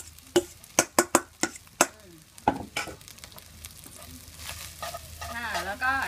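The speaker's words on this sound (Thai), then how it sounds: "เราคลุกกะปิแล้วไปผัดอีกทีนะคะ" Rice tossed with shrimp paste and stir-fried in a wok, with several sharp spatula scrapes and knocks early on, then softer sizzling and stirring, and a voice joining faintly toward the end.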